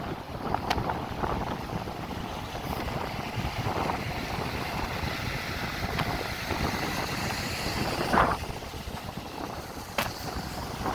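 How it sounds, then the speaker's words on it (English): Steady wind at Fort Myers Beach buffets the microphone with a constant rushing roar, gusting a little stronger now and then, with no voices. "It's getting very windy up here."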